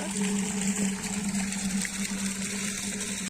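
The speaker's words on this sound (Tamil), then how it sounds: "நல்லா அலசிக்கணும் இந்த மாதிரி." Water running steadily from a pump or tap while ingredients are rinsed for chicken biryani, a continuous close splashing wash with a faint low hum beneath and no talking.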